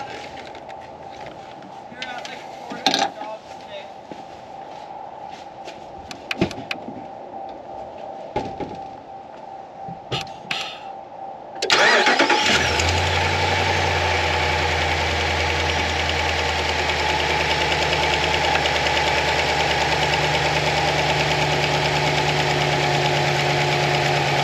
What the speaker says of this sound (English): I actually had to start the engine